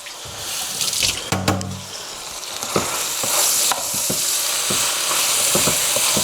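Ground turkey frying in a pan for meal prep sizzles steadily throughout, with a few clinks and scrapes of a spoon stirring the meat.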